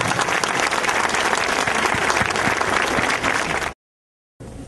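Sustained, loud audience applause welcoming a lecturer at a university talk on free software, a dense continuous clapping that cuts off abruptly into silence before resuming briefly.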